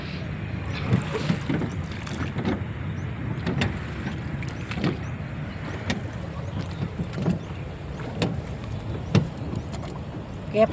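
Small rowboat out on the lake at Burnham Park in Baguio City, with steady water and hull noise, knocking oar or paddle strokes at irregular intervals, and wind across the microphone.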